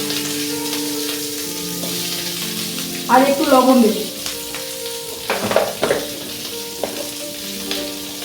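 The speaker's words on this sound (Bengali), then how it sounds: "পেঁয়াজ ক্যাপসিকাম একসঙ্গে ভেজে নেব" Onion and capsicum frying in oil in a kadai, a steady low sizzle with a few louder stirring scrapes, while someone speaks briefly over it.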